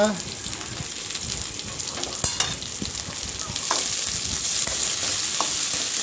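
Onions sizzling in a hot pan for pointed gourd sabji, with a steady crackling fry and scattered scraping stirs of a spoon against the pan, close and continuous.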